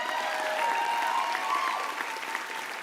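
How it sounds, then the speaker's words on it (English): Audience applause at an Indigenous music awards show, a steady wash of clapping filling the hall, fairly distant and sustained throughout without voices on top. "let's give them a round of applause."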